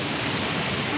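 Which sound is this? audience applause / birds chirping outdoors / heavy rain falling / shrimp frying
heavy rain falling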